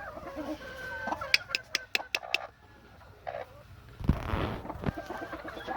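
Bennett gamefowl chickens cluck and call close by in a rapid burst of sharp clucks, then a pause, followed by a broader rustling scuffle and further calls among farm-yard noise.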